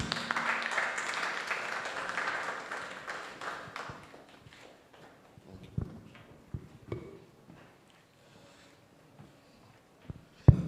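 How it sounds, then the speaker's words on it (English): Webinar participants applaud a speaker: a moderate patter of clapping fades out after about four seconds, followed by scattered taps and knocks in a quiet room. "A bigger round of applause"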